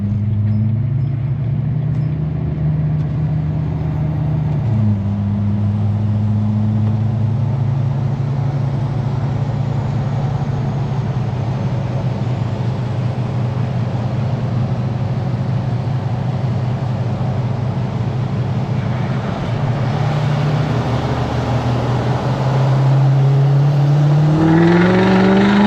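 A Duramax L5P diesel pickup engine runs continuously and loud, a steady droning idle with a brief dip near five seconds and a rising rev toward the end, heard alone without talking.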